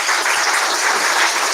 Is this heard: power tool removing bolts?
no